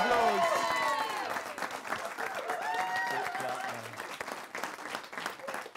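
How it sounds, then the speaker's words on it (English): A studio audience at a game show applauds loudly after a contestant finishes a push-up challenge, with continuous dense clapping mixed with cheering and shouted voices throughout. "Give him a round of applause."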